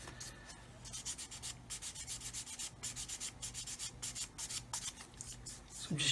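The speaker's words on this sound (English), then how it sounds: "So I'm just gently rubbing." Rhythmic back-and-forth scratching of a sanding stick rubbing a plastic part of a 1/32 scale Kitty Hawk OV-10A/C Bronco model kit, close and crisp strokes repeating steadily, ending with a brief louder knock.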